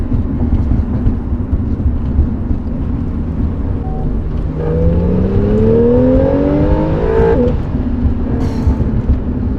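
A Porsche 911 accelerating hard in second gear at highway speed, a loud, rough engine roar under steady road noise with a rising tone building over several seconds before easing off, heard from inside the cabin.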